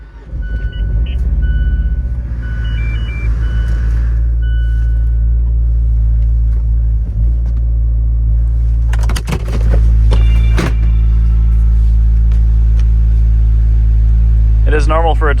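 A Fiat 124 Lusso engine runs with a steady low rumble as the car drives out, a brief burst of louder noise midway and electronic beeps at times, with a voice heard over it.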